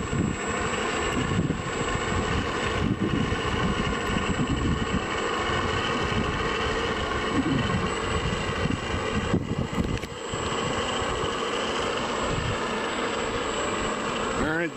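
Several vintage propeller aircraft taxi on a tarmac, their engines a loud, continuous droning rumble with a thin steady high whine, while voices talk over the noise throughout.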